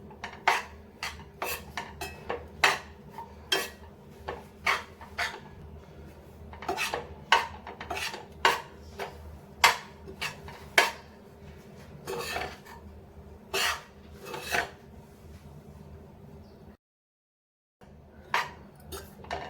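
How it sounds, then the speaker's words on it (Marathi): Dry fruit powder for makhana laddu is roasted in ghee over a low flame, heard as a steady series of sharp metal spoon scrapes and clinks against the pan, close and fairly quiet, with a brief silent gap near the end. "मी ही आता पावडर मंद आचेवर भाजून घेते"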